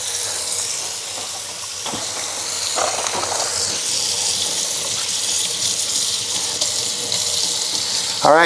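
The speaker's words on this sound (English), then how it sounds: "We got all the brine rinsed off now" Tap water runs steadily, splashing over a brined chicken held beneath it, continuous and fairly close, with a few small knocks.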